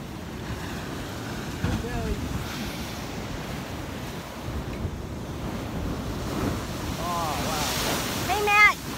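Ocean waves surging against the rocky shore at Blowing Rocks during a king tide, a broad continuous wash with wind buffeting the microphone and a louder swell near the end, while voices talk faintly underneath.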